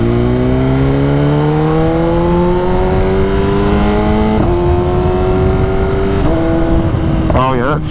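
BMW S1000RR sport motorcycle accelerating hard through the gears from the rider's position, with a loud rising engine whine, quick-shifter gear changes, and a burst of exhaust pops and crackles at the end.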